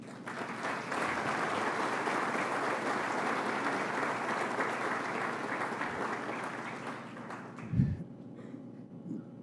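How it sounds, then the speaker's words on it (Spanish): Sustained audience applause at the inauguration of a national legal congress, a dense steady clapping that fades out near the end, followed by a brief thump. "les quiero pedir un fuerte aplauso a nuestra comisión que lo ha hecho posible"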